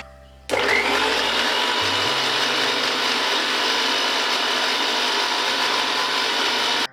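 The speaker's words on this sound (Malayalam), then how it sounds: "ഇനി മിക്സി മൂടി വീണ്ടും നന്നായിട്ട് അടിച്ചെടുക്കണം." A mixer grinder whirs at full speed, blending garlic mayonnaise with oil in its jar: a loud, close, steady motor whine that starts abruptly and runs unbroken for about six seconds before cutting off.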